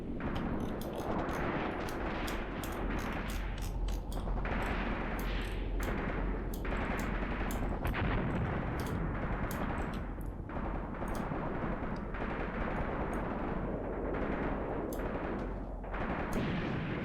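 Artillery fire in the wartime tactics game Graviteam Tactics: a continuous heavy rumble broken by many sharp, irregular blasts and cracks, loud and dense throughout with no voices.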